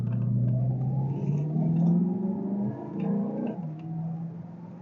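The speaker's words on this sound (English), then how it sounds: "sound of the V8, eh?" A 1993 Mercedes W126 500SE V8 heard from inside the cabin while driving, a steady, muted low rumble and whir with gentle rises of revving, continuous throughout.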